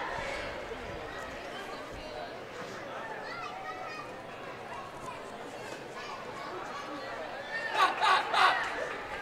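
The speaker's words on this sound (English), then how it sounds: "You hear the fans trying to taunt, but it doesn't work." Fans in a modest crowd at a girls' high school basketball game jeer at a free-throw shooter, a faint murmur of voices that swells into a few louder calls near the end.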